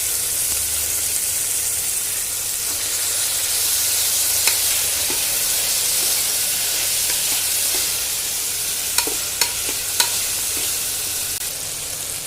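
Carrots and beans frying in a hot pan for poha bisi bele bath, a steady close sizzle with soft stirring scrapes and a few sharp spoon clicks near the end, no voices.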